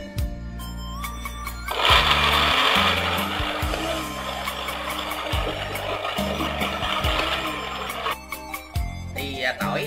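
An electric blender grinds peeled garlic cloves to a fairly fine paste, a steady loud whirring roar lasting several seconds with low background hum before and after, no talk over it.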